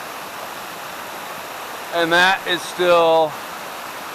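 Steady broadband rush of a waterfall filling the air as a continuous hiss, with someone speaking briefly over it partway through.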